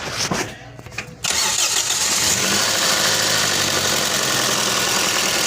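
A Toyota Vios with a suspected ignition coil fault cranks briefly and then catches, settling into a loud, steady engine idle heard up close.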